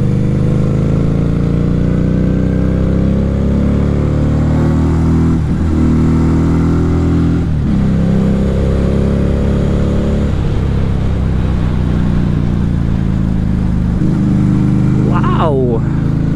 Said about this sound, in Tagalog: Hindi kasi common yung tunog ng V-twin